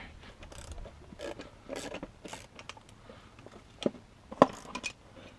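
A pulley-removal tool on a Jeep Cherokee power steering pump, worked with a bottle-jack handle for leverage, gives quiet scattered ratcheting clicks and metallic creaks, with a couple of sharper snaps near the end.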